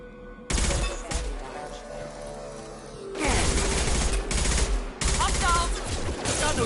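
Sustained firefight in Mass Effect 2: dense bursts of rapid automatic gunfire, loud and close, with long runs of shots separated by brief lulls, while voices call out over the shooting.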